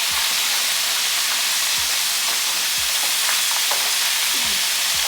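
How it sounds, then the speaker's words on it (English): Crab legs frying in a pan make a loud, continuous bright sizzle and hiss, with a few soft low thumps from the pan underneath, no talking. "Let me make it fry up a little bit first."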